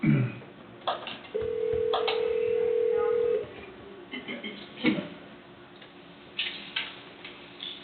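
A telephone call is placed to bring a remote participant into a county commissioners' meeting; a steady ringing or dial tone runs for about two seconds near the start, with brief tones and speech before and after it.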